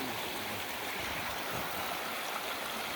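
A mountain stream at a campsite in the North Georgia mountains flows in a steady, broad rushing wash of water, even and continuous, moderately faint with no voices.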